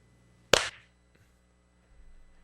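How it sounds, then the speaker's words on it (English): A single sharp clap from two people clapping together in sync over a Skype call, one crisp close hit followed by silence. "It was an in sync clap."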